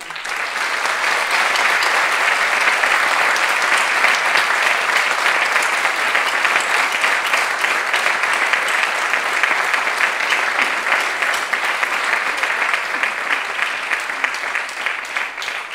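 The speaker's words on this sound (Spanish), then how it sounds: "pido vos un aplauso enorme para él y para toda su familia" Sustained, steady applause from an audience at an award ceremony for ethical journalism, loud and dense with no talk over it.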